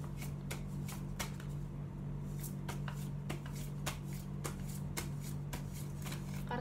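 Playing cards riffled and shuffled by hand for a reading, with repeated crisp flutters and snapping bursts at a quick irregular rhythm, close and fairly quiet over a low steady background hum.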